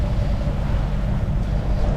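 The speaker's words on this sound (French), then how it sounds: "j'ai sorti un petit morceau de génois, là, en plus de la grand voile. Et l'appui moteur" A sailboat runs under mainsail and a small genoa with motor assist through swell at five to six knots. A steady engine drone blends with broadband wind and water rush, close and continuous.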